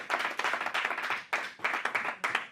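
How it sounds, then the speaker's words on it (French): A church congregation claps together in loud, rhythmic bursts of many hands, broken by brief pauses between rounds of acclaim. "Est-ce qu'on peut acclamer pour cette parole?"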